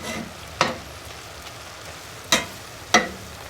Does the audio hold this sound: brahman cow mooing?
no